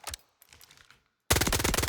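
SMG fire in Delta Force: a short, loud, rapid automatic burst close up, following a few quieter clicks and taps.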